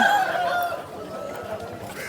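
A rooster crows once at the Vijayawada poultry market, loud and near, its call trailing off into a quieter, noisy outdoor background.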